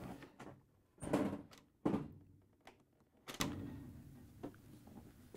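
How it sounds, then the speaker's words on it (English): Frigidaire/Electrolux freezer door lifted off its hinge, giving a few sharp knocks and thunks with a louder clunk near the end, close by and without speech. "we can now remove the freezer door. Simply pull forward slightly and then lift up carefully."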